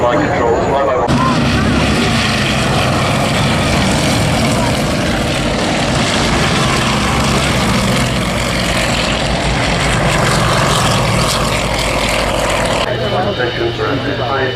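An aircraft roars past at the Farnborough Airshow, a loud, sustained engine drone that fills the whole stretch and cuts off near the end, with speech mixed in over it.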